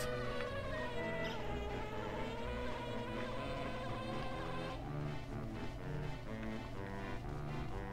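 Bee buzzing in the video game Banjo-Tooie, a continuous close insect drone layered over dense game music, steady for the whole stretch with no talking.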